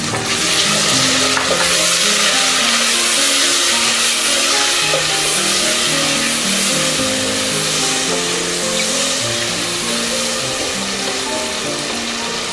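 Tomatoes are added to onion and garlic masala that has fried until brown, for a mixed dal of mash and chana. A loud, steady sizzle carries through the whole stretch, with scraping and stirring over it and no talking.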